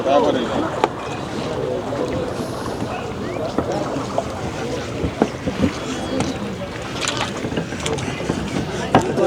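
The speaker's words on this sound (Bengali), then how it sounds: "আরও কিন্তু আসছে নৌকা আস্তে আস্তে।" Wooden fishing boats come in slowly to the Meghla river ghat, with steady water and motor noise, scattered knocks and bumps, and wind buffeting the microphone. Voices murmur in the background.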